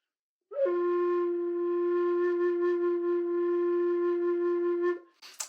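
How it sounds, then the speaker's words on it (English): A Geoffrey Ellis F whistle sounds a single sustained low F, steady and fairly soft with clean harmonics, held alone for about four and a half seconds before a brief click at the end. "That's the low F, and you can see it's much quieter than the Selkie low F."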